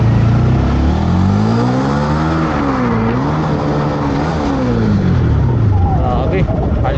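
A 2024 Honda Winner X 150 motorcycle on its stock exhaust pipe revs up and down close by, a loud, continuous engine drone whose pitch repeatedly rises and falls, easing off toward the end.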